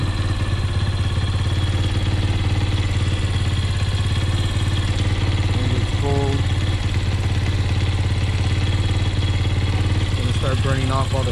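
A Grom clone motorcycle with its stock exhaust idles steadily and loud throughout, a constant low engine drone with clattery texture and a few brief sharper tones near the end.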